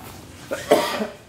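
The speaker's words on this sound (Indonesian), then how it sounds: "Batuk guys." A single short cough from a person with a cold, close and fairly loud, with a couple of raspy bursts in quick succession.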